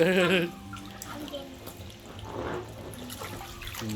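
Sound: water splashing as children swim in a pool

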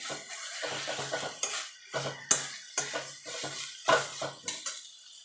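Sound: stirring and mixing chickpea greens in a pan

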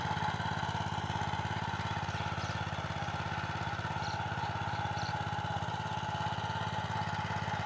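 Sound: power weeder engine running on a field

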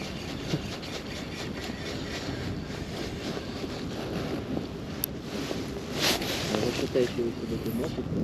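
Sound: wind on the water while fishing from a boat

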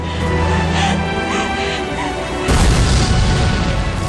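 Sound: explosion as a burning ship sinks, in a film recap

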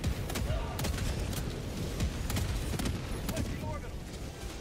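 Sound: orbital barrage explosions in Helldivers 2 video game

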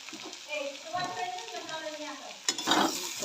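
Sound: bitter gourd with tomato and onion cooking on low gas

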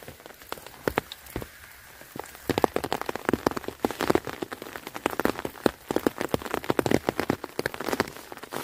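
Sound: rain falling

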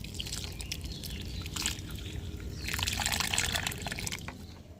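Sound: water poured into a flower pot

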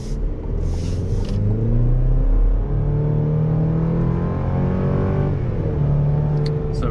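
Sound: 2024 Chevy Colorado Trail Boss truck accelerating

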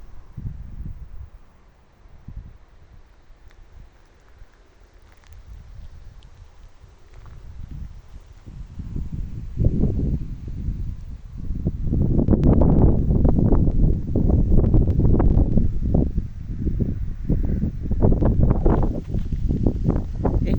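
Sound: wind blowing

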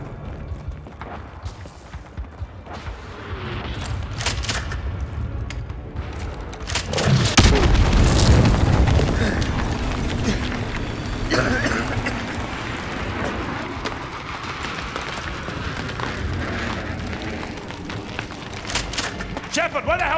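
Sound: naval artillery bombardment explosions in Call of Duty Modern Warfare 2 video game

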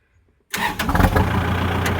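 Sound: tractor engine for plowing

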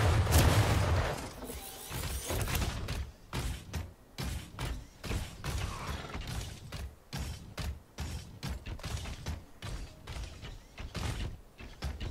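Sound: gunfire in a video game

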